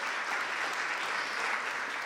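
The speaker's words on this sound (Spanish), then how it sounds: "Yo quiero que usted se dé un aplauso por haber venido hoy a la iglesia." A church congregation claps together in steady, dense applause, loud and continuous throughout with no voices standing out.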